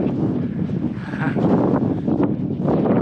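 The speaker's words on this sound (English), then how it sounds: "Now you can hear again how windy it is." Strong wind buffets an open mountain summit along the West Highland Way, a continuous loud roar with gusts that swell and ease across a few seconds, heard alone without talk.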